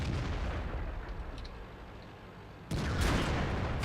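A tank gun firing in the World of Tanks video game, one sudden heavy boom cutting in abruptly late over a low rumbling battle background, with no speech.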